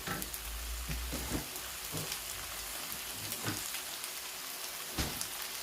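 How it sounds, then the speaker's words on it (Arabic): Rice frying in a pan for oven-baked Spanish paella gives a steady, soft sizzle, with scattered light crackles and a few scraping stir sounds. "فهنا ضروري هذه المرحله نديروها للارز باش ما كيجيناش داك الرز معجن، كيجينا مقلي مزيان"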